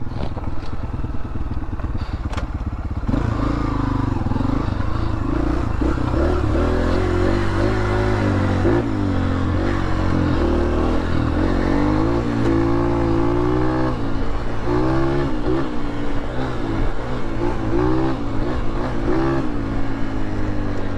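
A 250 dirt bike engine revs hard while riding on a muddy trail, a loud continuous buzzing drone rising and falling with throttle changes, close and alone without talk.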